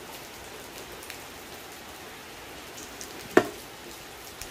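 Heavy rain pours steadily on a fruit orchard, a dense even hiss of drops with one sharp tap near the end and no voices.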